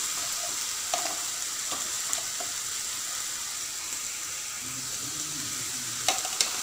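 Coriander powder and garam masala frying in a pan for mushroom curry cooked with ghee, a soft steady sizzle with a few light clinks and stirring taps, fairly quiet overall.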